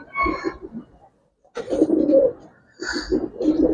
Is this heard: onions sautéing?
no